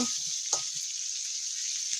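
Dried fish frying in a pan gives a constant bright, hissing sizzle at moderate level, with a couple of soft low knocks near the start and no talking.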